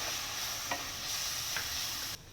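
Coconut and milk for burfi sizzle softly in a pan as the mixture is stirred, a steady hiss broken by a couple of light spoon scrapes before it cuts off abruptly, no talking.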